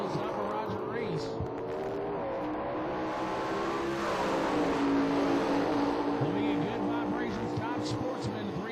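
Drag race car launching hard with its front wheels lifted at an IHRA Pro Am event, a loud sustained engine roar with strong harmonic sweeps over a noisy crowd, with a public-address announcer talking over it.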